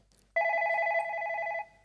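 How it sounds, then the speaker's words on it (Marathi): A telephone rings with an incoming call on a comedy show set, one steady, loud burst of warbling electronic ring tone lasting just over a second, with quiet room tone before and after. "पहिला फोन आलेला आहे"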